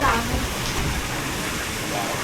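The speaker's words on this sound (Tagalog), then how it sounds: "Ang ulan." Rain falls on Boracay Island as a steady, dense hiss that fills the whole stretch, with voices murmuring faintly underneath.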